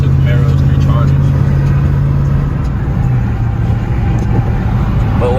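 Chevrolet Camaro and Dodge Charger SRT cars, two Camaros and three Chargers, driving through city traffic, with a loud steady engine drone and rumble throughout, heard from close by with voices present.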